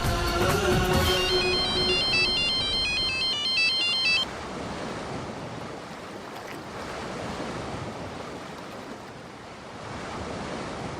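A melodic phone ringtone chimes for a few seconds over a steady rushing noise like surf or wind, then cuts off while the wash continues.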